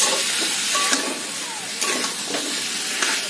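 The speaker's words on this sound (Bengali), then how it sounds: "তো দেখো চিকেনটা কষা হচ্ছে" Chicken for rezala sizzling loudly in a pan, a dense steady hiss of frying with occasional stirring scrapes, close and continuous.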